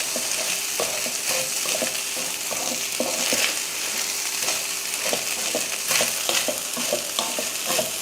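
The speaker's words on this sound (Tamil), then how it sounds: "இப்போ இதில் வெள்ளைச்சோறை சேர்த்துடலாம். சேர்த்துட்டு நல்லா கலந்துருவோம்" Cooked white rice is stirred into sautéed onion in a sizzling pan over low heat, a steady frying hiss broken by rhythmic scraping and tapping strokes of the spoon, close and fairly loud without speech.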